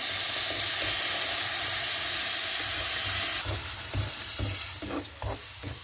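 Syrup poured into roasting semolina halva makes a loud, steady hiss and sizzle at first, then drops to a quieter bubbling with scattered soft clinks and stirring sounds close by.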